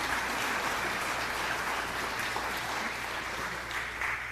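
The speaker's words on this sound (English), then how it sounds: "Please give her a round of applause." Steady, dense applause from an audience at a human rights celebration and awards ceremony, sustained at an even level without break, with a faint voice murmuring underneath.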